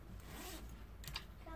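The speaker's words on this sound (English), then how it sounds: "we've got our working zipper." Zipper on a handmade African indigo mudcloth pencil pouch, pulled in a short close scratchy run with a brighter rasp near the end, quiet and alone.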